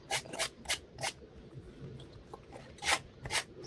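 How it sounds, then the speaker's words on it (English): Short, scratchy bursts of abrasive rubbing come in quick irregular strokes, like paper edges being sanded, fairly close and quiet. "I'm just doing the boring bit, sanding off the edges."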